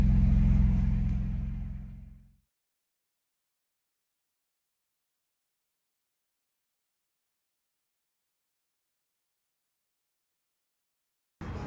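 Deep exhaust rumble from a 2024 Ford Ranger 2.7L fitted with a new muffler, loud and close for about two seconds before cutting to silence, with a short burst of engine sound returning at the very end.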